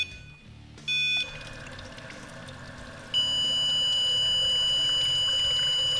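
An AEM/Aquamist-style water meth injection pump under bench test, powered through a probe, sprays a little water in a steady loud hiss with a high whine, after a brief starting burst.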